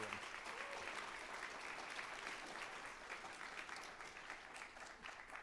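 Sustained applause from an audience at a high school science research symposium, dense steady clapping filling the room for several seconds, heard from a distance without speech.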